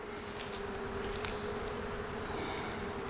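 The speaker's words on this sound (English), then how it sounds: "there's a decent bit of bees up here." Honey bees buzz in a dense, steady drone from an open hive frame, a close and continuous hum with no talking.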